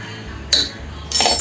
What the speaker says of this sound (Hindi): ढक्कन लगा के इसको 2-3 सीटी कर लेंगे अभी